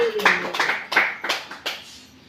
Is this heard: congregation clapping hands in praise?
yes